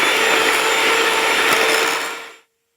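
An electric blender whirs loudly and steadily while mixing shea butter, a harsh motor drone that winds down and cuts out near the end, with no talking.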